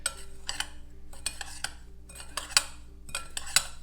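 Santa Maria seasoning spices are mixed in a bowl with a utensil, producing repeated close clinks and scrapes against the bowl in an irregular rhythm, with no talking.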